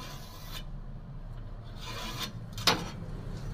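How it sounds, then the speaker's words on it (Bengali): Scraping strokes of a marker across a bathroom tile's corner during tiling work, a soft rasping scratch repeated near the mic with one sharper mark near the end, over a steady low background hum. "এখন কোণটা দাগ দেবো"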